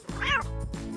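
A cat gives a single short meow, close and fairly clear, with a brief softer trailing call after it and no talking.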